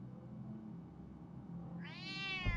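A single cat meow from Batman: The Telltale Series comes near the end over a quiet low ambient hum, short and fairly clear.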